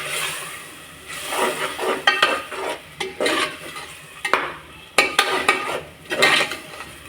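A spoon scrapes and stirs a ground paste of coriander, mint, ginger, garlic and green chili in a pot, with soft frying sizzle and repeated metallic clinks against the pan, close and steady, and no talk.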